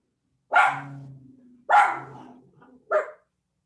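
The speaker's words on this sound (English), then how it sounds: "Those are my puppies who are not happy that it's garbage night" Three sharp dog barks from pet dogs reacting to garbage night, loud and close, spaced about a second apart, with a lower growly undertone between the first two.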